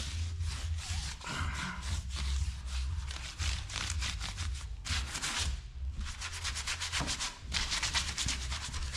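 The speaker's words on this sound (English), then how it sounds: "I'm using a special cleaning solution along with a tougher brush to break down all that stubborn dirt and grime" A stiff brush with cleaning solution scrubs dirt and grime off damaged car wheel rims in repeated close, rasping strokes of varying rhythm, with no talking.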